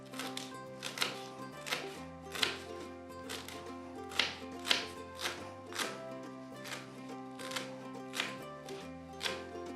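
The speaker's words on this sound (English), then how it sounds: "quickly chop them" A knife chops fresh mint leaves on a board for a coriander mint yoghurt sauce, with steady close taps repeating about twice a second over a soft musical background.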